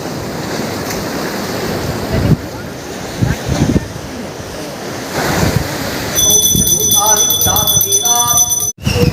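Heavy surf roars continuously with wind buffeting the microphone, a loud, rough wash of breaking waves close by at Mandarmani sea beach.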